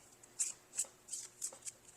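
Soft, sharp flicks of shuffled tarot cards, about five evenly spaced bursts close to the listener, with a faint bump at the end.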